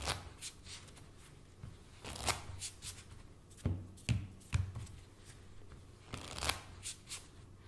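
A deck of playing cards is riffle shuffled and squared by hand while dealing poker, giving quick papery riffles and sharp taps in separate bursts, close and fairly quiet, with no talk.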